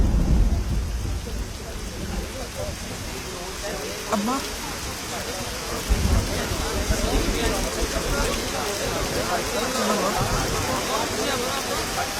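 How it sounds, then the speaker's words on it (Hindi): Heavy rain pours steadily while thunder rumbles low underneath, with a couple of sharper cracks and voices faintly mixed into the storm. "चल बारिश हो रही है अम्मा, वहाँ अंदर खड़े होते हैं।"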